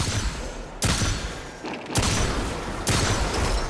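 A hand cannon fires in a sci-fi shooter game, three heavy booming shots spaced about a second apart, each with a long reverberant tail over loud continuous combat noise.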